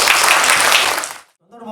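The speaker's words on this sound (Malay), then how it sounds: "tepukan gemuruh untuk diri anda sendiri" Audience applause at a Mini Bangsawan theatre competition, a dense burst of clapping from a crowd that holds steady for over a second, then cuts off sharply before a voice starts speaking.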